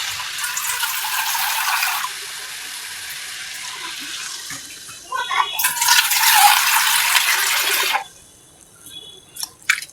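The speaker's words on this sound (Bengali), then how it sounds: "এখন এটার মধ্যে পানি পানি দিয়ে দেওয়া" Cold water splashes into a cooking pan during khichuri preparation. It comes in two loud, close pours, the first about two seconds long and the second a longer burst, with quieter gaps between them.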